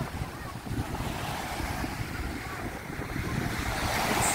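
Ocean waves break on a beach at the Princess Hotel in Cancun, Mexico, during the rainy season. The surf makes a steady, full roar with gusty wind buffeting the microphone throughout.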